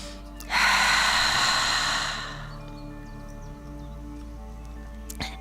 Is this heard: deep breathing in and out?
yes